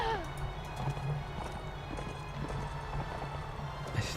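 Horses gallop across open ground in Mount and Blade: Warband, a soft rapid clip-clop under faint game ambience, with a brief whinny near the start.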